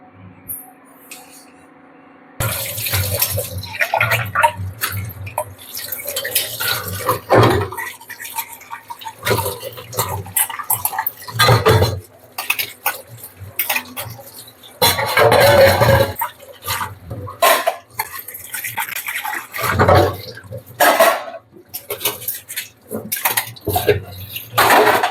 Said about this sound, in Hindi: भैया ये 2-4 बर्तन है, इन्हें और धो देती हूँ।